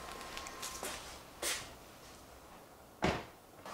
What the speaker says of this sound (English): Did you close the door?